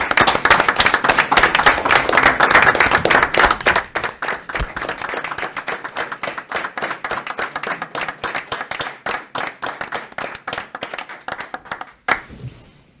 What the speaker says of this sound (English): give you a round of applause tonight